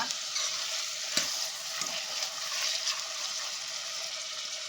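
Tomatoes fry in a pan for Chettinad chicken, giving a steady close-up sizzle with a couple of sharp stirring scrapes. No one speaks.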